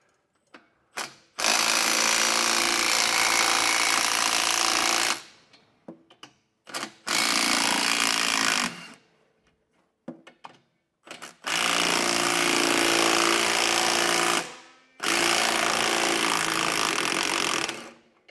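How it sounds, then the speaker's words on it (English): Impact wrench with a 22 mm socket removing axle U-bolt nuts during a leaf spring suspension kit install on a 2023 vehicle, four long loud rattling bursts close by separated by short pauses. "we're going to need a 22 millimeter socket in order to take the U-bolts off of our axles"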